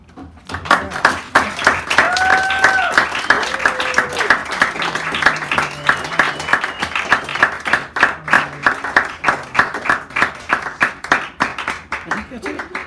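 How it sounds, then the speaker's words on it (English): An audience at a poetry hour in a San Francisco café claps in sharp, regular beats that grow sparser toward the end, while a voice talks and calls out over the clapping. "Give him another round of applause for the evening"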